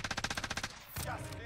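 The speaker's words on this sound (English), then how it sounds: "Who is shooting at you" A rapid burst of automatic gunfire rattles off in Call of Duty Warzone on Rebirth Island, about a dozen evenly spaced shots close by, followed by a heavier impact and game noise.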